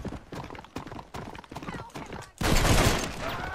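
Hooves clatter in a fast, rhythmic gallop as a horse races through town in Red Dead Redemption, followed by a sudden burst of loud gunfire and commotion, with a voice talking over it.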